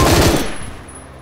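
Rapid automatic gunfire in a Roblox shooter game, a loud burst of shots in the first half second that quickly fades into a decaying echo.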